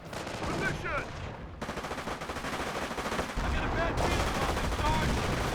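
A Hotchkiss barrage in the real-time strategy game Company of Heroes crackles as dense, rapid gunfire and blasts, sustained throughout at close range with faint voices mixed in.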